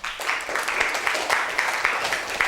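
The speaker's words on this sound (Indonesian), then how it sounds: "Mana tepuk tangannya untuk kelompok 6?" Classroom applause for a student group during a teacher-training lesson, a steady patter of many hands clapping throughout, moderately loud and fairly close.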